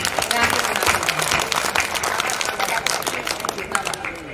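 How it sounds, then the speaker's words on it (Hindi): Audience applause at a Hindi poetry recitation, a dense steady wash of many hands clapping close by, sustained evenly throughout with some crowd noise mixed in. "एक बार तालियां बजाकर मेरा मन बना दीजिए"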